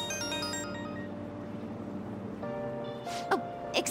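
Phone ringtone from the Persona 5 Royal video game, a steady electronic melodic tone that shifts pitch partway through, followed by a couple of brief bright chimes near the end.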